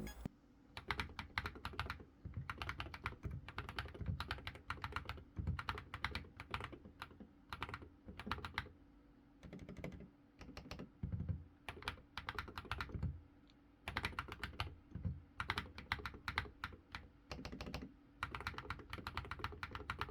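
A Darmoshark COOL 60 mechanical keyboard is typed on rapidly and continuously, its dense, close keystroke clacks running in fast bursts with only short pauses.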